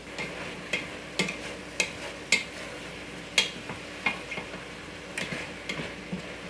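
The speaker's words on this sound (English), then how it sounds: "And stir that around." A spoon scrapes and knocks in a pan as salt and pepper are stirred into sausage and mushroom stuffing, giving a series of close, evenly spaced taps over a faint sizzle.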